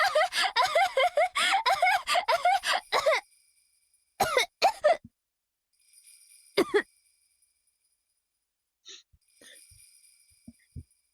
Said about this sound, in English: Cough, cough, like the word, and then cough, the sound